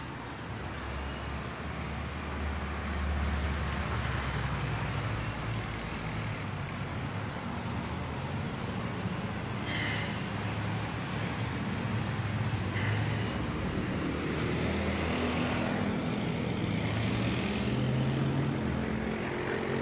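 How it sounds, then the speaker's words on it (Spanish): Large vehicle noise on a street in Taxco, Mexico, as a garbage truck arrives: a steady, loud engine rumble and traffic drone fills the whole stretch, with brief higher squeals or hisses near the middle and end. "Ya llegó el carro de la basura."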